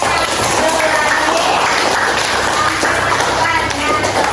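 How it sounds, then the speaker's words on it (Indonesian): A crowd claps steadily throughout, a dense, continuous wash of applause filling the room at close range. "Tepuk tangan untuk teman"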